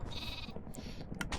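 A sheep in the Minecraft Super Smash Mobs minigame gives a short, faint pixelated bleat, with scattered game sound effects around it and no talk.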